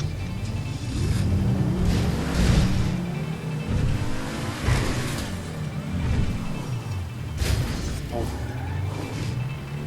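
A car accelerating and driving in GTA 5, with engine revs rising and falling repeatedly under ongoing chatter from players talking over it.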